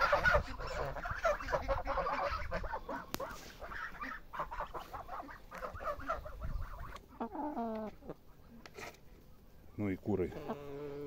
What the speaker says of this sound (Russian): Ну и куры ждут еду.